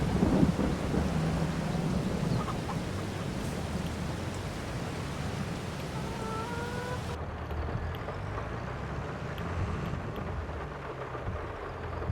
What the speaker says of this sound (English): Let's go for a nice sprint in the rain.